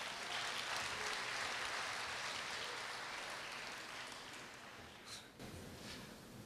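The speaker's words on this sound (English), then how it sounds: "Please welcome him with a warm applause" Warm audience applause at a Korea University summer campus graduation ceremony as a professor is welcomed to the stage, steady dense clapping heard from a distance that tapers slightly toward the end.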